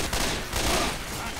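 Rapid burst of gunfire in the zombie shooter Left 4 Dead 2, a dense rattling volley of close shots over roughly a second, loud and sharp.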